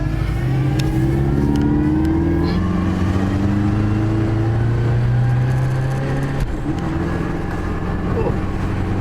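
A Subaru Forester accelerates on a test drive, its engine note climbing steadily through rising revs across several gear pulls, heard close from inside the cabin with faint talk beneath.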